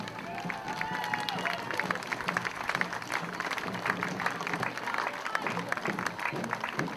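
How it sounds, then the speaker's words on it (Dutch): A school crowd at a primary school festival applauds steadily for several seconds, thick clapping with some cheering and movement mixed in, moderately loud throughout. "Geef er een flink applaus voor."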